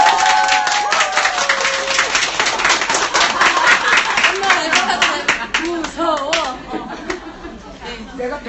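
An audience at a Korean political talk event in Gimcheon breaks into sustained clapping, dense and close at first, then thinning out, with a woman's speech and crowd chatter over it.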